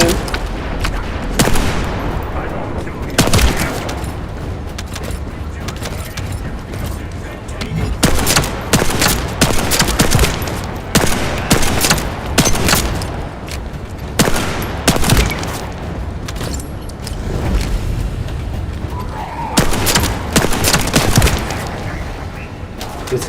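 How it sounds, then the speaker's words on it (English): Hand cannon fire in The First Descendant video game: repeated loud sharp shots in irregular bursts over a dense backdrop of combat noise and effects across the whole stretch. "This hand cannon is beast."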